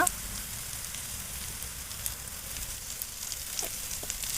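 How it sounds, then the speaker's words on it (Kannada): Onions fry in a pan until brown, for a coconut palya served with akki rotti. A steady, moderate sizzle and crackle runs throughout, with a few faint stirring clicks. "ಈಗ ಈರುಳ್ಳಿ ಕಂದು ಬಣ್ಣ ಬರೋವರೆಗೂ ಹುರ್ಕೋಬೇಕು"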